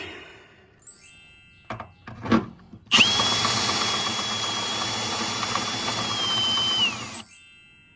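A power drill drives self-tapping screws into a solar array mount, starting with a few short bursts and knocks. Then comes one sustained, loud, whining run of several seconds that ends abruptly.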